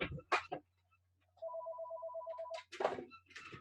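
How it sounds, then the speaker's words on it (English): A phone ringer sounds a steady run of rapid, evenly pulsed electronic beeps for about a second, with clear nearby knocks and handling noises before and after it in an otherwise quiet room. "There's no other way for me to shut off the ringer."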